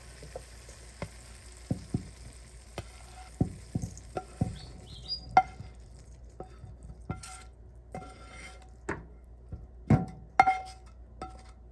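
Vegetables being stirred into crumbled cornbread for Thanksgiving turkey stuffing: soft, irregular scraping and light spoon taps against the bowl, close and quiet, with no talking.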